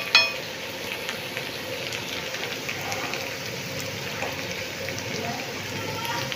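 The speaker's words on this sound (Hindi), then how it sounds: "अब ये आलू फ्राई हो गए हैं ना" Potatoes frying in a pan make a faint, steady sizzle that stays soft and even throughout, with a brief clink at the start.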